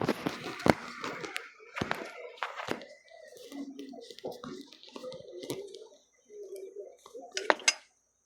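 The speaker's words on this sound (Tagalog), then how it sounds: "tataob muna ako ng mga pinggan" Ceramic plates clink and clatter in a few sharp knocks as they are stacked upside down, with quieter rustling and handling between them.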